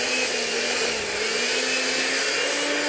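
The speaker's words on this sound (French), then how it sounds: "Donc, on va fouetter ça" An electric mixer whisks a cheesecake mixture in a steady, loud, continuous whir that holds an even pitch throughout, with no voices over it.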